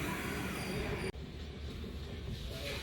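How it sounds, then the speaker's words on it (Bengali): A train pulling into Cuttack Junction railway station in Odisha gives a quiet, continuous low rumble with a brief dropout near the start, then carries on steadily. "আমাদের ট্রেন এখন এসে পৌঁছলো ওড়িশা রাজ্যের কটক ডিস্ট্রিক্টের কটক জংশন রেলওয়ে স্টেশন"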